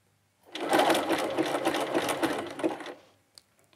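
Domestic sewing machine stitching a hem on a jersey dress, one steady close run of rapid needle clatter for about two and a half seconds, then stopping, with a light click after.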